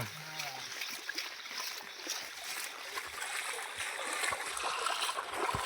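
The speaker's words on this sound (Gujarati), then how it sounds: "ખાલી પાણી આ બધું તળાવમાં પાણી જાય જો કેટલું જાય" Rainwater running steadily into a village pond after heavy rain, a continuous rushing trickle and splash at close range, with a person talking over it.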